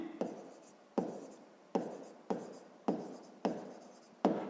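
Pen strokes on paper during a sixth-grade maths exercise, six or seven short scratchy marks at a steady rhythm, each starting sharply and fading, close and quiet with no talking.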